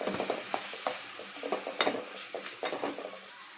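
A spoon stirs soy milk powder peda thickening with milk and cardamom in a pan, with soft irregular scraping and clinks over a faint sizzle, close and without talk.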